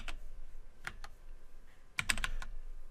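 Fingers tap on a computer keyboard during a coding lesson: scattered individual keystrokes, then a quick cluster of several presses, close and moderately loud over a steady background hiss.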